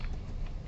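Typing on a computer keyboard, a steady, close stream of rapid key clicks running through the whole stretch with no talking.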